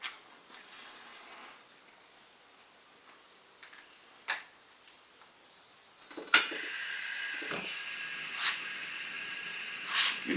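A matchstick strikes, then a stove flame hisses steadily under a frying pan as it heats, a few faint ticks before the flare and a loud continuous hiss afterward.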